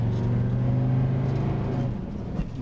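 A 1984 Mercedes 300D diesel accelerates hard, its engine droning in a loud, steady rumble close by that eases slightly toward the end, with no talking.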